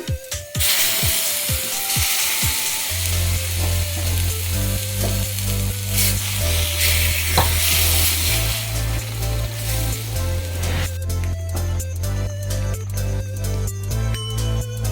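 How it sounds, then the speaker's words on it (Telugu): Tomato puree sizzling and frying in a pan for paneer gravy curry, a steady hiss with scraping stirring strokes, while background music plays throughout. "టమాటా ప్యూరీ వేసుకుందామండి"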